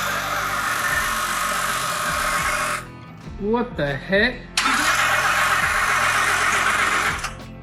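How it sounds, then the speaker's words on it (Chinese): An Audi R8 supercar, a damaged accident car, cranks twice and fails to start: loud, dense whirring starter bursts broken by a short pause, with a man's surprised exclamation and other voices in between. "车子哼唧了几次就是启动不了"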